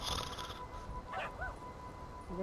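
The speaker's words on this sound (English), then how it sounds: "Oh, you're barking. You're able to bark too." A few small, high-pitched yips and whimpering barks from a poodle in Grand Theft Auto V sound faintly over a steady tone, sparse and brief.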